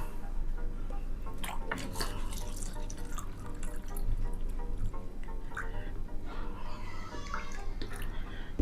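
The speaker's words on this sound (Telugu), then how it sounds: "ఫ్రెండ్స్ చూడండి, వాటర్ పోస్తున్నాను." Water pours steadily into a container as part of separating alcohol from water, a continuous close splashing rush with occasional drips and gurgles.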